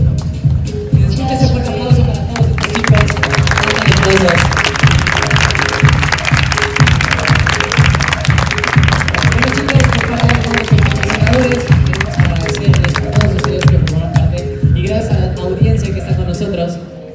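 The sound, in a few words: audience applause at fashion show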